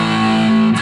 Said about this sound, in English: I'm going to take us into the overdrive channel.